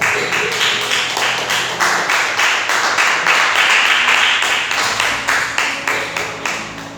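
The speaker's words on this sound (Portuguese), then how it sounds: "Você assenta, desocupa as suas mãos e aplauda ao Rei da Glória." Church congregation clapping together in steady, rhythmic unison, a dense roomful of hands beating a regular pulse throughout, loud and close with no talk over it.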